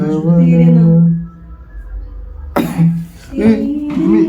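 A person gives a sharp, harsh cough close to the microphone, set between voiced, hummed vocal sounds before and after it.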